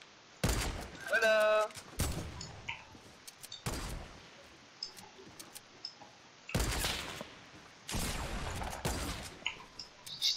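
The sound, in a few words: pump shotgun fire in a video game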